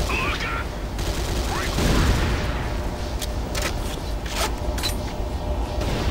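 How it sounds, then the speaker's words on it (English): Gunfire and a large explosion in the video game C&C Renegade as an Orca attack vessel fires three rounds into a giant cannon, producing a dense, continuous roar of blasts and booms with sharp bursts throughout. "now an orca attack vessel comes and shoots three rounds into this giant cannon and explodes"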